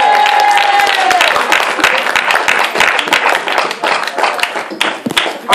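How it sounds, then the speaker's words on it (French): Congregational clapping during a lively church service, with many hands beating fast and loud throughout, a sung voice briefly heard at the start and voices calling out underneath. "Allons applaudir le Seigneur"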